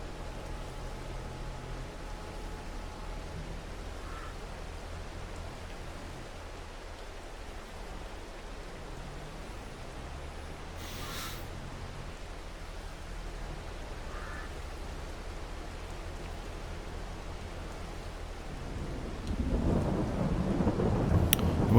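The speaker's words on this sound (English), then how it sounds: "Especially now that it's raining." Steady rain hisses throughout in the video game Farming Simulator 22, with low rumbles of thunder rolling in the background, growing louder near the end.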